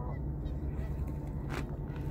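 Geese honking over a frozen, fog-bound waterway at -22°C, a few nasal calls rising above a steady low rumble, with one brief sharper call near the end.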